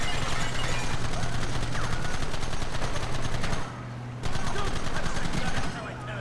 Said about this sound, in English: I didn't tell you to open fire!